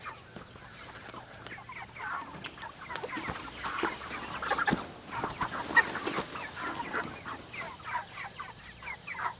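Farm chickens cluck and chatter busily nearby in a continuous, overlapping flurry of soft calls with scattered louder squawks.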